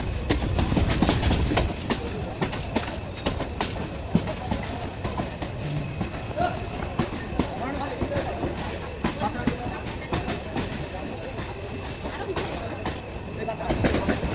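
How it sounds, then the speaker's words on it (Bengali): Intercity Burimari Express train running after a stop, a steady rumbling roll with rhythmic rail clatter throughout, heard from onboard with passengers talking underneath. "প্রায় 7 মিনিট বিরতির পর ঈশ্বরদী বাইপাস ত্যাগ করছে আন্তনগর বুড়িমারি এক্সপ্রেস।"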